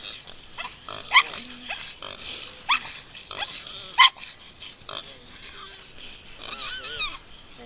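Hog dogs catch a hog outdoors at a hog dogging event: snuffling and growling, with sharp squeals from the hog, come in bursts close by as people talk over the struggle.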